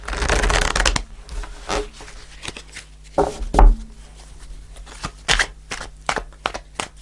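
A deck of tarot cards is shuffled by hand close to the mic, with a long riffling burst followed by scattered short slaps and flicks, and no voices.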